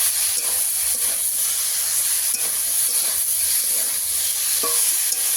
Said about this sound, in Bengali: এই গুপ্তি আমি একটু ভেজে নিচ্ছি